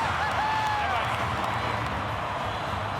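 Stadium crowd cheering at an NRL rugby league finals match between the North Queensland Cowboys and Newcastle Knights, a continuous loud roar of voices with clapping and whistles, steady throughout.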